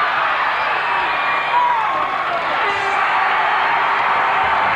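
A dense, roaring crowd cheers and whoops steadily at a 1985 NBL basketball game between the Adelaide 36ers and Brisbane Bullets in Apollo Stadium, loud and sustained throughout with no breaks.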